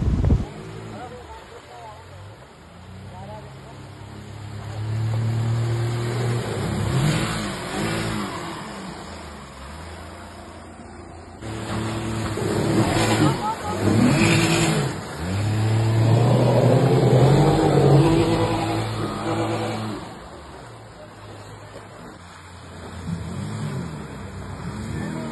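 A boat's engine drones steadily on the water, rising and falling in loudness, with wind buffeting the microphone and a voice talking over it.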